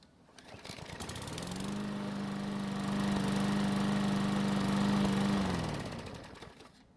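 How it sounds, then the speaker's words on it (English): A Craftsman lawn mower engine restarting while hot, catching quickly then settling into a steady, loud running drone that swells and finally fades. "it started back up with a hot engine without any real problems"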